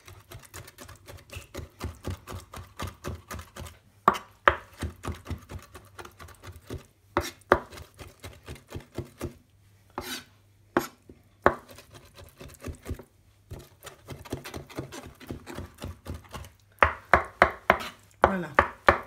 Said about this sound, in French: on va prendre un très grand couteau et on va hacher toute cette chair